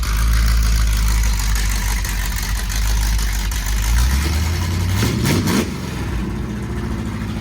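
Lamborghini Countach monster truck engine runs loudly nearby with a deep steady rumble, rising slightly before a brief burst of mechanical noise near the end, then settling back.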